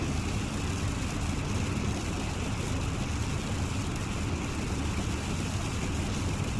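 Rain drums steadily on the windshield of an Airbus A320 cockpit in Microsoft Flight Simulator, a dense, continuous hiss with no breaks and no talk.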